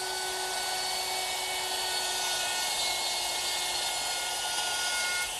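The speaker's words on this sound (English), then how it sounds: "Using my router, which is equipped with a dovetailing bit" A router fitted with a dovetail bit cuts into a wooden chair seat in a workshop, giving a constant high-pitched whine and steady cutting noise with no pauses throughout.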